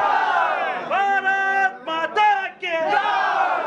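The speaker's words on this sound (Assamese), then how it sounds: "ইয়াতে শ্লোগান চলি আছে আপোনালোকে দেখি আছে শ্লোগান" Party workers in Assam chant political slogans in unison at a by-election result celebration, a loud crowd of voices rising and falling in rhythmic bursts.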